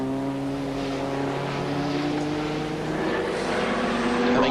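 A small Toyota touring car racing at Sandown in the 1985 Australian Touring Car Championship, its engine whining steadily at high revs with a sustained rising tone, moderately loud and unbroken.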